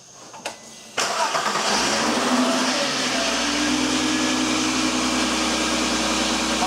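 A Volkswagen Jetta engine cranks in a couple of brief starter bursts, then catches at about one second and settles into a steady, close idle hum during power steering bleeding.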